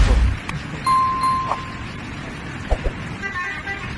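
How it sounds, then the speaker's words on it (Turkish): A car horn sounds in a short toot amid road traffic noise, followed by a few faint thumps. "Korna çalıyor ya bir de."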